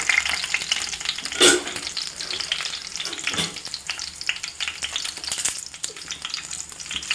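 Star anise, cinnamon and cloves fry in hot oil with cashews for a South Indian tomato bath, giving a steady close sizzle broken by louder bursts of stirring and spattering.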